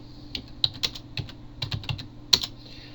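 Close typing on a computer keyboard produces irregular bursts of light clicky keystrokes, some in quick runs, with a soft hum beneath.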